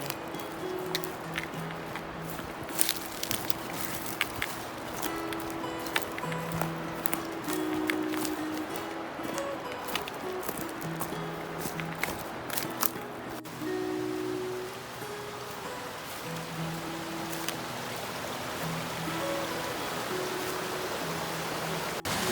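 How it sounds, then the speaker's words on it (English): Narrow Creek flowing into Mill Creek on an off-trail forest hike in the Smokies, a steady broadband rush of water running throughout, with faint tonal sounds mixed in. "Here you can hear Narrow Creek coming in."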